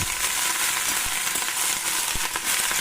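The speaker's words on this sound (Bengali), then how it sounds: "পেঁয়াজকলি আলুটাকে একটু ভাজা ভাজা করে নিচ্ছি" Potatoes and onion stalks fry in a pan for a fish curry, giving a steady broadband sizzle with a few sharp clicks and scrapes, close and fairly loud throughout with no talking.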